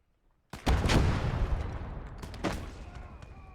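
A Pak 40 anti-tank gun fires in a WWII real-time strategy game, giving a loud sharp blast with a second booming shot about two seconds later, both trailing into rumbling battle noise.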